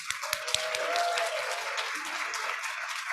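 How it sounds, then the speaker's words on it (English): A graduation pinning ceremony audience applauds its secondary education majors with steady, dense clapping and some crowd noise, a thin whistle-like tone sliding across early on. "Let's give our secondary education majors a round of applause."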